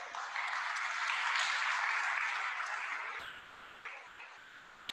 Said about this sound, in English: please give them a huge applause